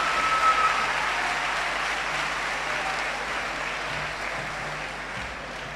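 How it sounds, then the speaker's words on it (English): A large crowd applauds steadily at a medical school pledge ceremony, a dense wash of clapping that holds for several seconds before gradually easing. "please give the class of 2K19 a round of applause"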